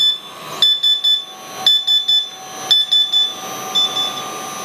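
A loud electronic low-water-flow alarm buzzer beeping in repeated bursts of three or four short high tones, close by, with no talking.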